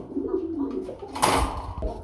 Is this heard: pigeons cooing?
yes